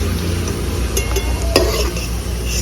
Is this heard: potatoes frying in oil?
yes